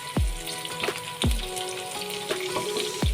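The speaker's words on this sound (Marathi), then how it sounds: "आता घालायची आहे आपल्याला 1 मिरची बारीक कापलेली।" Finely chopped green chilli sizzles in hot oil for a spinach and pea curry, a steady close frying hiss broken by several sharp knocks of a utensil against the pan, with no talking.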